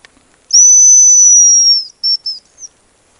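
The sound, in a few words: whistle imitating a hazel grouse call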